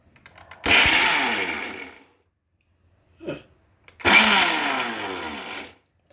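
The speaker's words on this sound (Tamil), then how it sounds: "மிக்ஸி ஜாரில் போட்டு, மிக்ஸிலேயே நம்ம போட்டாச்சு ஜாரை. இப்போ அரைக்க ஆரம்பிச்சிடலாம்" A mixie grinder whirs loudly as it blends chutney ingredients in its jar, running in two bursts of about a second and a half each with a short rattle between them.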